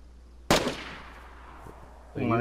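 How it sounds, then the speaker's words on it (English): A single sharp gunshot cracks out in a game firefight, with a short echoing decay, and a voice starts talking just after it. "Somebody else shooting."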